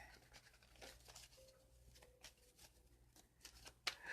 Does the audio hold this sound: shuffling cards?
yes